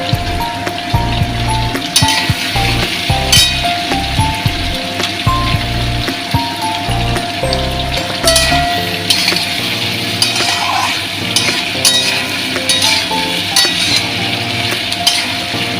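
Onions and green chillies fry in oil for a prawn curry, with a steady crackling sizzle under repeated spatula scrapes and knocks against the pan; a faint tonal hum and some low clatter run throughout.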